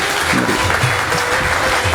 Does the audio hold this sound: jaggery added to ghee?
no